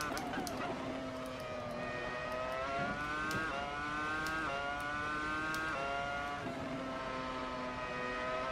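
A Williams FW26 Formula One car in Assetto Corsa races with a loud, high-pitched engine whine that climbs steadily through the gears, dropping abruptly at each rapid upshift before rising again.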